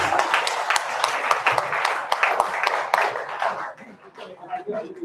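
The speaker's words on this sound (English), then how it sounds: "Please give a huge round of applause." An audience at an international conference applauds, dense steady clapping from a crowd that thins toward the end.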